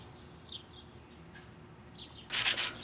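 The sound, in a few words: lightly sanding metal pan gasket surface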